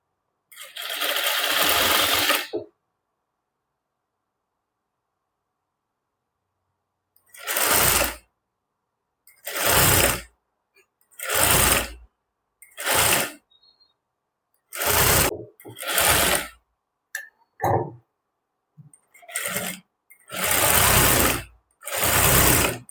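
A sewing machine stitches an umbrella frock in a series of short, separate runs. Each close mechanical burst is split from the next by silence, with some quick stops and starts.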